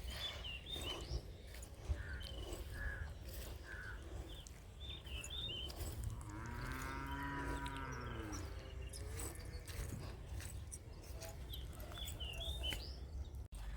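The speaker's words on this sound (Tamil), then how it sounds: "இந்த மாடு மேயுது. அந்த மரத்தில் பிடிச்சி கட்டியாச்சு." A tethered cow grazing near a tree on a farm lets out one long, clear moo in the middle, with faint bird chirps and steady outdoor background noise around it.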